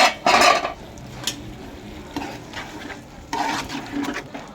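Chicken curry, Telangana style, stirred in a pan with a utensil: a few bursts of scraping and clatter against the pan over a soft background sizzle, close up and without talk.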